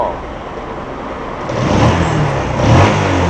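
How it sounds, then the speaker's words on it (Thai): A Yamaha X1R motorcycle with an R15 engine swap idles low and then revs twice, rising in short swells while the exhaust stays fairly quiet and muffled. "ท่อเงียบครับ แต่เครื่องยนต์นี่ครับ เงียบเหลือเกิน"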